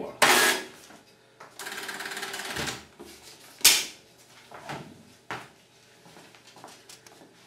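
Dot matrix printer driven by an old keyboard as a makeshift typewriter, printing in short bursts of buzzing, rasping head strokes separated by carriage clunks and pauses.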